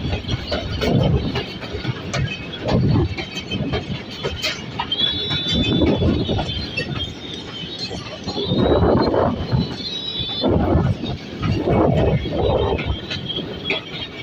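The Fareed Express passenger train runs along the track near Kasur Junction, giving a continuous rumbling roll with rhythmic wheel thumps and brief high metallic squeals, heard from on board and without talking.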